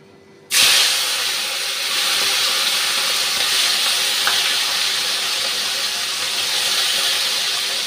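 Prawns drop into hot oil for shrimp and bottle gourd curry, setting off a sudden loud sizzle that holds as a steady, close frying hiss for the rest of the clip, with no talking.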